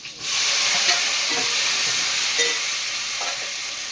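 Chopped tomatoes fry in a hot pan for a soy kurma, giving a loud, steady sizzle and hiss that holds for the whole stretch, with a few faint stirring knocks and no talking.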